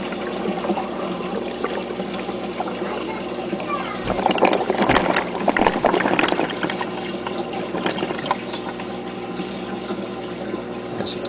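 Water drains out of a bell siphon once the siphon starts, a continuous pouring and trickling rush that swells in the middle and then eases, heard close with a steady pump hum beneath.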